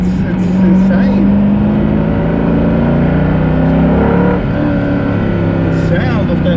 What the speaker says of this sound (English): The sound of that V8.